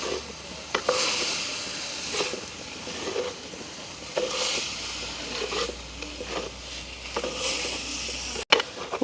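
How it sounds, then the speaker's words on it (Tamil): Fenugreek seeds stirred into onions frying in a pan for a village-style fenugreek curry, with a steady close sizzle and repeated scraping stir strokes, alone with no talk. "இப்போ வெந்தயத்தையும் சேர்த்து அப்படியே நல்ல வடிவாக கலந்து விடுவோம்."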